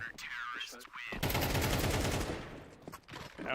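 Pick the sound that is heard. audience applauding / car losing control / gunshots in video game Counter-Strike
gunshots in video game Counter-Strike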